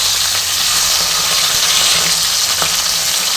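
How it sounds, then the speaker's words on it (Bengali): A fish head fries in hot oil with a loud, steady sizzle and hiss that holds without a break throughout. "এবার এই পিঠটা খুব ভালো করে ভেজে নেবো"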